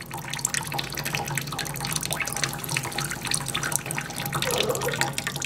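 Running water splashing steadily in a sink during a bearded dragon's bath, a constant close wash of liquid with faint drips, no talking.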